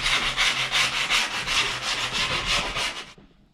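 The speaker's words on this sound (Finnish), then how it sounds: "otatte vaan ylimenneen palan tätä grippiä ja suoraan hinkkaatte tällä." A scrap of skateboard griptape is rubbed against the rough edges of griptape on a Powell Peralta Flight deck. The close, rhythmic scratchy strokes repeat steadily for about three seconds, then stop.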